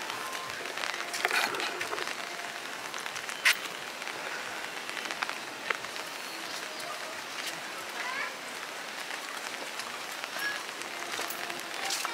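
Steady rain falls at Kamakhya temple, a dense even hiss of drops on surfaces with a few sharper taps. It carries on for the whole stretch, fairly close, with no clear talk on top.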